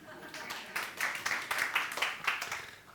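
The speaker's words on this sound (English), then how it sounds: "Give yourself a round of applause." Audience clapping in a church gathering, a light scattered round of hand claps that swells and fades over a few seconds, fairly quiet and close, with a voice faintly underneath.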